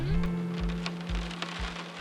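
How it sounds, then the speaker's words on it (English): Heavy rain falls during an e-bike ride on Anchorage's Tony Knowles Coastal Trail, a steady hiss of drops under a constant motor whine with rhythmic low thumps, close and moderately loud, with no talking. "it started raining pretty hard"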